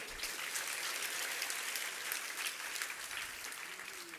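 Audience applause at a religious sermon on a riverside ghat, a distant, even wash of clapping that sounds almost like rain and holds steady throughout.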